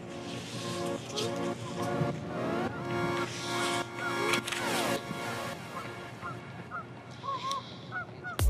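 Geese honk repeatedly near the water on an early spring Bellingham, Washington shoreline, a flock calling in bursts of loud nasal honks, some close and some farther off, over a low background hum.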